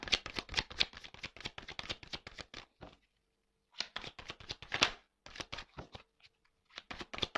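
A deck of cards being cut and shuffled at close range, bursts of rapid riffling flicks with a short pause in the middle, quiet and alone without talk.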